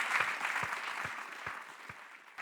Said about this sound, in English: I think a round of applause for Susie Dent.